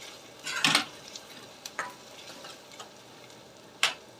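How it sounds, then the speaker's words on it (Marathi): Onions sautéing in a pan give a low, faint sizzle beneath a few scraping stirring strokes and light clinks of a utensil against the pan, spaced irregularly with quiet gaps between them. "तर कांदा गुलाबी होईस तर छान असा परतवून घ्यायचा आहे"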